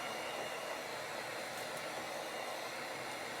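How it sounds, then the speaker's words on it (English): A heat gun blows a steady, even stream of hot air onto trading card packaging being resealed, a continuous broadband whoosh held close and loud with no pauses or voices. "Hit it with the heat gun."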